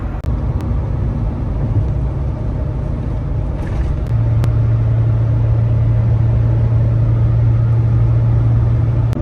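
A Ford F450 Super Duty Powerstroke diesel truck towing a loaded trailer at about 70 mph makes a constant loud low road and engine drone inside the cab. A steady tone rises partway through.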